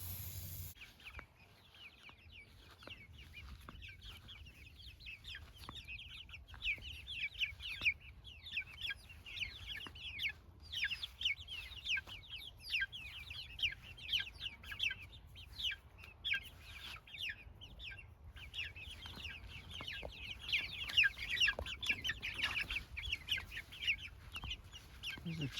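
Chickens clucking in a backyard chicken run beside a wire tunnel, a steady chatter of soft clucks from several birds at moderate distance over low outdoor rumble, with no talk.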